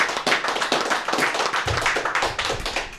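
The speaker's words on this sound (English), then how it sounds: "I think we should give an applause to the supporters to this point." Supporters of a podcast team clap together for about three seconds, steady broadband hand claps with a few individual taps standing out, close and fairly loud, no voices over them.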